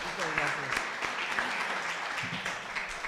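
An audience applauds steadily as a dense wash of many hands clapping, with a voice speaking briefly underneath.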